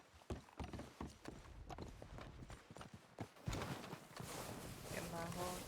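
Horse hooves clip-clop at a walking pace in a video game, a quiet run of even hoofbeats mixed with soft mechanical and ambient game sounds that thicken toward the end.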